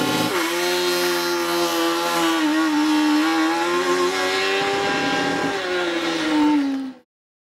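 The UQ Racing student race car accelerates hard during launch control testing, its engine buzzing with a strong rising harmonic drone that holds loud and steady for several seconds before cutting off sharply.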